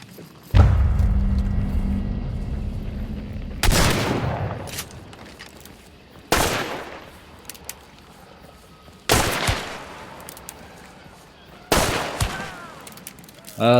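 Gunfire in the video game Hunt Showdown: five loud, booming shots spaced a few seconds apart, each with a sharp attack and a long echoing tail.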